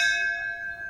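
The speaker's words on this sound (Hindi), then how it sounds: "अबे घंटी मार दे" A single bright bell tone rings out clearly and decays over about a second, a doorbell pressed at a house's front door.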